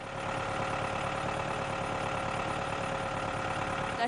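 A tractor engine runs steadily while drilling holes, a constant close, mid-pitched mechanical drone with a faint knocking pulse and no breaks.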